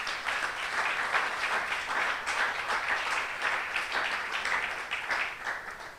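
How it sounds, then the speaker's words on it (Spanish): Sustained congregation applause during a Spanish-language church sermon, a dense, even roar of many hands clapping throughout, fairly loud and without speech over it. "¿Cuántos aplauden a Dios por eso en esta mañana?"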